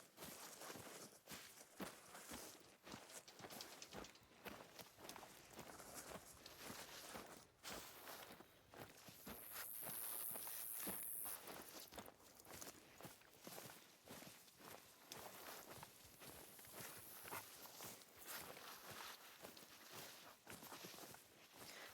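Steady, quick footsteps of a crouch-walking character in the video game Call of the Wild, soft repeated scuffs on a dense, continuous outdoor bed, with no talk.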